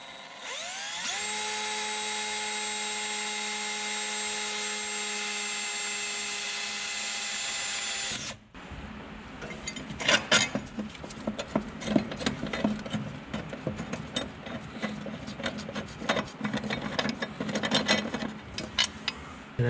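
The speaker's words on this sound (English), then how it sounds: "that's gonna get me really close and get in here with my drill" A power drill spins up with a steady high whine for several seconds, then bites into material with loud, rough, uneven grinding bursts, drilling holes while fitting a power brake booster on a 1967 Ford Mustang.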